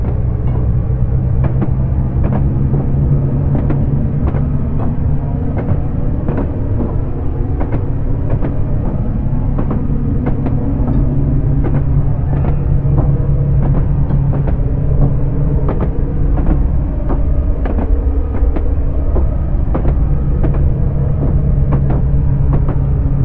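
A train in Train Simulator rumbles steadily with rhythmic clickety-clack of wheels over rail joints and a low engine drone, continuous and close.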